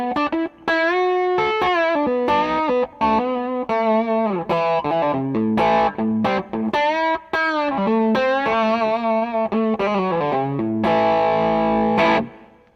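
Rick Vito Soul Shaker electric guitar played through gain and overdrive, a loud, sustained distorted lead with bent notes and chordal phrases running continuously, alone without talk.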